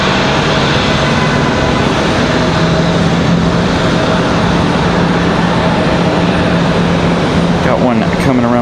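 A CRJ regional jet departs Raleigh-Durham International Airport, a loud, continuous broadband engine roar with a steady low hum running through it, and a voice audible over the noise.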